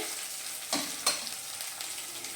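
Spice paste frying in a pan for a home-style veg dal, a steady soft sizzle with two brief scraping stir strokes, close and fairly quiet.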